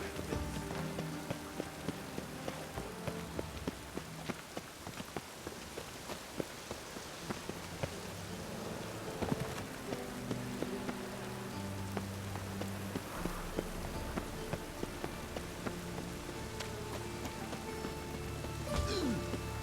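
Continuous rainfall over the city streets of The Witcher 3 hisses evenly for the whole stretch, with occasional louder drips and soft background music beneath, no voices.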